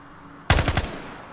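A short loud burst of rapid gunfire in the tactical shooter Ground Branch, several fast shots in under half a second, close and alone.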